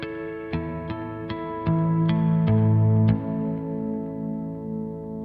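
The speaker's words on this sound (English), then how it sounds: "So I think that's a really nice ambient push clean tone." A Revv Generator 100R MKIII guitar amp plays an ambient push clean tone: a run of plucked single notes, then sustained chords that ring out and slowly decay with a wash of echo and chorus.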